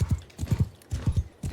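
Horse hooves in the video game Mount & Blade II Bannerlord clop in quick, loud, close paired beats, galloping in a steady rhythm over a short burst.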